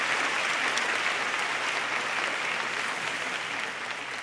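Audience applause at an interfaith summit on happiness, a broad steady wash of many hands clapping, loud and sustained, tapering only slightly at the end.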